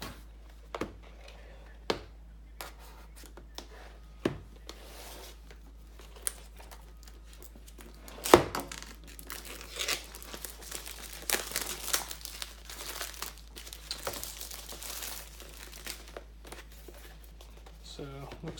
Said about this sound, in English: So I'm gonna go ahead and cut it open and just do the unboxing.